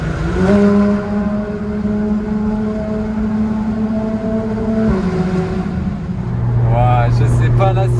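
A Porsche GT3 RS with an IPE exhaust revs hard and close, its pitch climbing and then holding around 3500 rpm before dropping off, with a voice joining in near the end.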